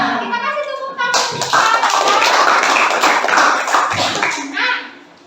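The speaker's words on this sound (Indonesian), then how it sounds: "Kita kasih tepuk tangan." Schoolchildren clapping in a classroom, a brief burst of loud applause from a group of students lasting a few seconds, with voices heard before and during it.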